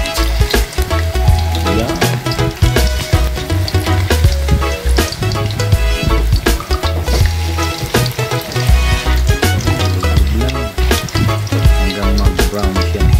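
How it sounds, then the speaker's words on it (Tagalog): Food submerged in hot cooking oil sizzles and crackles loudly and continuously, with a brief spoken word near the start. "Ilulubog na natin sa mainit na mantika."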